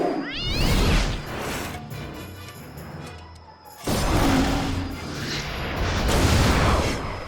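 A cartoon kitten meows in a few short rising cries near the start, set among loud whooshing, booming action effects and music that swell again later.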